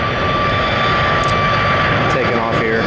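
A Southwest Boeing 737 MAX jet airliner takes off at Columbus airport, its engines a steady, loud, broadband roar that holds for the whole stretch, with a voice speaking over it.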